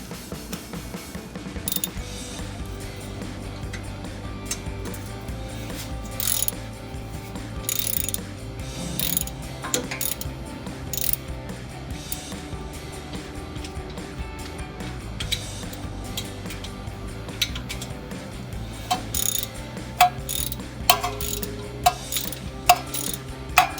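A ratchet with a Torx bit works loose a rear suspension bracket on a 2005-2010 Mustang GT during a Roush Stage 2 suspension kit install, giving close, rapid clicking bursts that repeat in spells over a long stretch.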